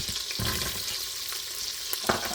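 Celery and onion sautéing in melted butter in a pan, a continuous close sizzle with occasional clicks and scrapes of a utensil moving the pieces.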